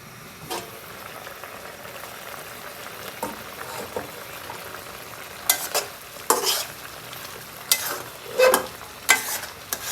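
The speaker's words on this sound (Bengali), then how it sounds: "টমেটোটা দিয়ে আমি আবার পাঁচ মিনিট জাল দিব" Vegetables and tomato simmer in a pan for a koi fish curry, a low bubbling sizzle broken by sporadic scraping stirs that grow louder and more frequent toward the end.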